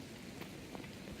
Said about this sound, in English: As you can hear, it's actually raining right now.